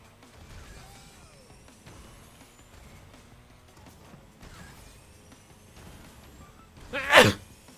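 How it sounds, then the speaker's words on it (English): A single sharp, loud sneeze bursts out near the end, following quiet racing-game audio from Crash Team Racing Nitro-Fueled with faint engine and mechanical sounds. "I just sneezed, so I couldn't even see what I was doing"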